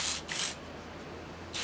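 A spray bottle mists snow pea shoots growing on soil: three short, hissing squirts close by, separated by brief pauses, with no talk.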